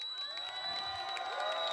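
A wrestling event crowd cheers and whoops at a hardcore rules match between The Sandman and Sabu, a dense sustained roar of many voices held at moderate level throughout.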